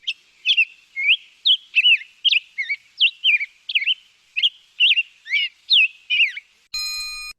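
A tanager sings a series of clear, whistled phrases, about a dozen short notes in an even rhythm, loud and close with nothing else behind them.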